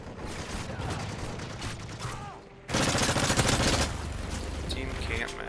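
Dense automatic gunfire and bursts in an online multiplayer shooter match, continuous and loud throughout, swelling into a heavier barrage midway; no clear talk over it.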